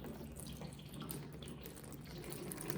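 Water pours steadily onto a watershed model to simulate a torrential rainstorm, a soft continuous splashing and trickling stream heard close and faint with no talking.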